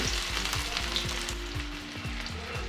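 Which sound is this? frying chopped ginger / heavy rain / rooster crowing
frying chopped ginger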